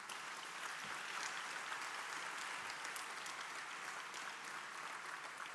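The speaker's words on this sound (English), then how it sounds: "Don't you think it deserves a round of applause" Steady applause fills a large hall at a degree convocation ceremony, a dense, continuous wash of many hands clapping at an even level throughout, with no speech over it.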